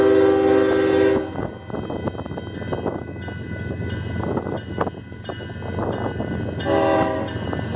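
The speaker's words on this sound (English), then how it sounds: "One of those e-bells on the train." Union Pacific 8097 freight train rolls past in rural Saint Elmo, Illinois, with a loud horn-like electronic bell tone at the start and again near the end over steady rumbling and clattering of rail cars.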